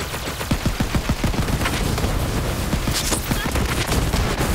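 Gunfire in the video game Borderlands 3, a dense automatic fusillade of rapid shots with a burst of distinct cracks early on, continuous and loud throughout.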